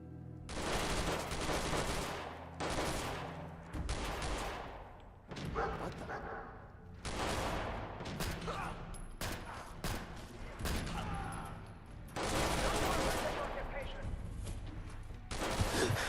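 Video game gunfire from enemies shooting at the player, coming in repeated bursts and volleys against a busy, loud battle background, with a voice talking over parts of it.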